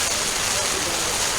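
Steady rain pours onto a campsite tent pitched without its rain fly during a storm, a dense, even hiss that holds unbroken throughout at close range.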